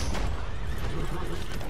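A horse in the Western video game Red Dead Redemption 2 gives a loud, close whinny that fills a brief moment, with hints of hooves underneath.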